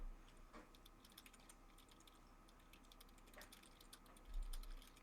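Computer keyboard keys clack in quick, uneven bursts during an online Dungeons & Dragons session, quiet and somewhat distant, with a few louder thumps near the end and no speech.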